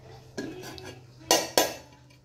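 A knife cuts through an apple on a board: a soft scrape, then two sharp, close chops in quick succession, with quiet room tone between.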